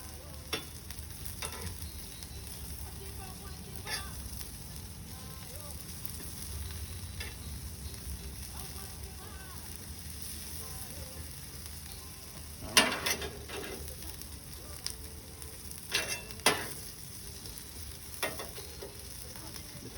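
Seasoned fish frying on a griddle makes a steady, soft sizzle, broken by a few sharp clinks and scrapes from a spatula, with no voices over it.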